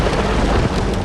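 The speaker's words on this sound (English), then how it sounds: "Outside the city, a giant swirling thunderstorm is rolling in." Heavy rain pours steadily with a dense low rumble of thunder as a giant swirling thunderstorm rolls in outside Dallas, a loud continuous wash with no pauses.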